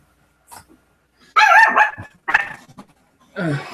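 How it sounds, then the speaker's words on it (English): A small dog lets out a few sharp, high yapping barks in short irregular bursts, close and fairly loud, with brief quieter whimpers and noises between them. "Some little dog must have gotten out, Right. barking, making noise at the entrance"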